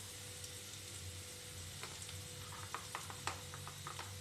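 Ground spices (cumin, coriander and Kashmiri red chilli powder) sizzle in hot oil for a curry with eggs, a steady near crackle under a low hum, with a few sharper clicks of stirring toward the end.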